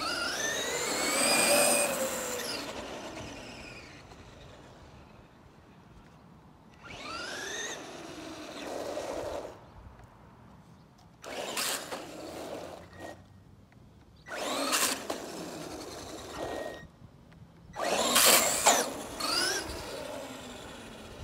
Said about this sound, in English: That's a Titan 12 turn with an XL-5 ESC doing that.